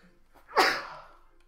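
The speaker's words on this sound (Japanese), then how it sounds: "ああ、くしゃみか。" A single sharp sneeze in the Final Fantasy VII video game bursts out mid-clip, loud and brief, then trails off into quiet.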